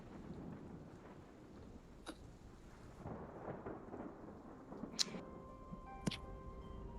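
Rain and thunder on a rainy evening, a soft steady rain hiss under low rumbling thunder that swells in the middle, with a few sharp clicks and faint tones scattered on top, fairly quiet and without voices.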